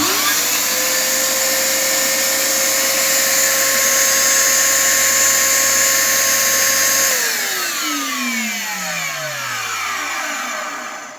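A Genesis vacuum cleaner motor runs with a loud, steady whine close by, then switches off and winds down, its pitch sliding lower over several seconds.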